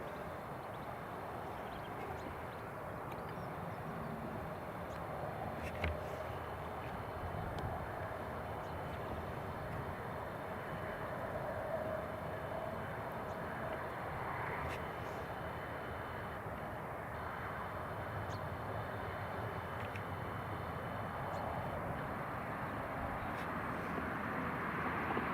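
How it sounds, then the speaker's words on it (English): A Ryanair airliner taxiing at Newcastle International Airport, a steady distant jet-engine rumble and whine that holds for the whole stretch with no talk. "that's a Ryanair taxiing"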